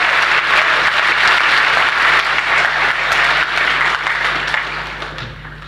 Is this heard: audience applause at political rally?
yes